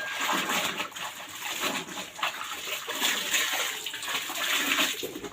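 Laundry rinsed by hand in a basin of water during a final rinse, continuous close sloshing and splashing with bird calls faintly in the background.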